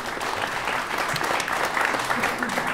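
A theatre audience gives warm applause for a singer and a guitarist, a steady dense clapping that holds at even loudness throughout.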